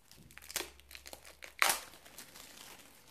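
Packaging crinkles close by as a box is opened, with a few soft rustles and one louder crackling burst near the middle.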